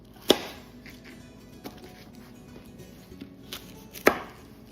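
A kitchen knife cuts Brussels sprouts into quarters on a cutting board, giving two sharp chops several seconds apart with a few faint taps between them against a quiet room.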